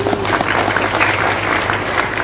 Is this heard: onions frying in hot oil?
no